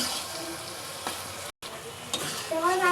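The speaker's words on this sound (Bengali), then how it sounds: "এবার দিয়ে দিব আমার লাউ" Bottle gourd added to a pan with fish, sizzling and frying with stirring scrapes, a brief gap midway and a rising hiss at the end.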